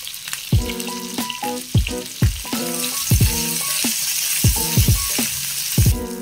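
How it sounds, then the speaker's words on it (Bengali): Onion, ginger, garlic and green chili fry in a pan for Afghani paneer, with a steady sizzle under repeated ringing metallic clanks as a utensil strikes the pan in an irregular rhythm. "পেঁয়াজটা ফ্রাই হয়ে গেছে আর আদা রসুন লঙ্কাটাও দেখো ফ্রাই হয়ে গেছে।"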